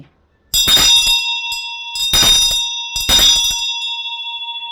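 Three separate strikes of a bright white metal bell, close and loud, each leaving a clear shimmering ring that fades slowly before the next.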